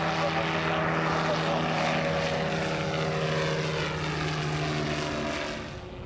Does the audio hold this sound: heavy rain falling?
no